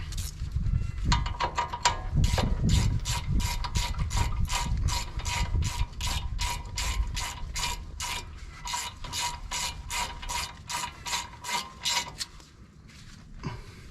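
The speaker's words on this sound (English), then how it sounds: "Get your 3/8 Allen, tighten those up." A ratchet with a 3/8 Allen socket tightens bolts during a two-inch drop spring install on a Chevy squarebody truck, a fast, loud run of sharp clicking strokes in steady bursts, close up, ending abruptly.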